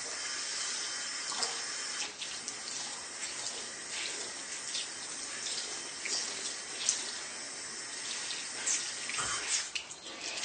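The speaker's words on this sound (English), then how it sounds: "run it under some lukewarm tap water and keep squeezing it until the water runs clear" Lukewarm tap water runs steadily from a faucet over a Beautyblender makeup sponge being squeezed in a sink, a continuous close hiss with small splashy fluctuations as the sponge is worked.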